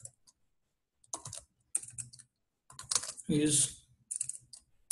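Someone types Python code on a computer keyboard, producing quiet, close bursts of rapid key clicks separated by short pauses, with a voice speaking faintly at times.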